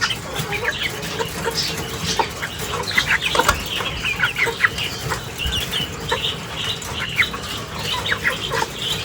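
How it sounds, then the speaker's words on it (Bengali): Farm chickens cluck and squawk busily while feeding, a constant chorus of short calls from many birds nearby, with other small birds mixed in and no talking. "দেখেন ফার্মের মুরগি খাওয়ার জন্য কতটা শর্টফট করতেছে।"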